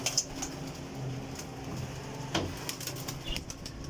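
Desi Shah Sira flying pigeons flap their wings in a few faint, brief flutters at a distance, with soft ambient noise between the bursts.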